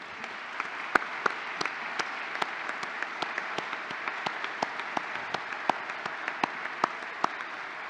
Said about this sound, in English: would you please join me in a round of applause to thank them for all of their support